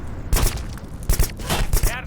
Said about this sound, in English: Explosions in this game, as you can see, are a little bit difficult to gauge sometimes.